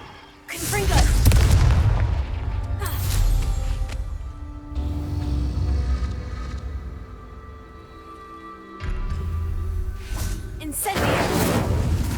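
Confringo explosive spell blasts in the video game Hogwarts Legacy: several booming bursts with whooshing tails, one around the start and others later, loud and close, with a voice talking over the action.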